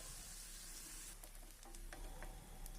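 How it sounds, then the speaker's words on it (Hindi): Chopped onion frying in a pan and stirred continuously, a steady close sizzle with soft scraping strokes in the second half and no talk. "अब प्याज को हमें लगातार चलाते हुए अच्छे से भून लेना है"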